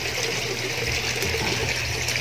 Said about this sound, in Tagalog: Maagos na yung tubig yan